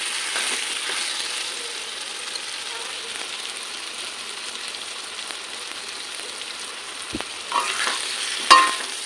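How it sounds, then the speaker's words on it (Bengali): Spice paste for a fish curry with pointed gourd stirred and sizzling in a pan, a steady close hiss with occasional scraping stirs, ending in a louder burst as water is poured in. "মশলাটা সামান্য কষিয়ে নিয়ে জল ঢেলে দেবো।"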